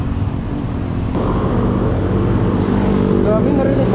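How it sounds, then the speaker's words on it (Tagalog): Loud motorcycles and cars in Quezon City traffic, heard from a bicycle ride, make a steady, close engine rumble with wind buffeting the microphone, while a person speaks over the noise. "Grabe, narinig ba ako? Lalakas ng motor."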